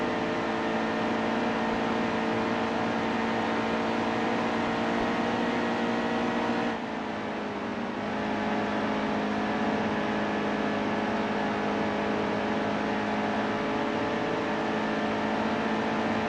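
A NASCAR race truck engine in the NASCAR Heat 2 video game drones loudly at sustained high revs, a dense harmonic buzz holding steady, with a brief dip in pitch like a lift or gear change midway before climbing again.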